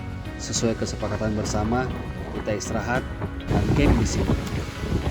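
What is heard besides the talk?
strong wind on Mount Bawakaraeng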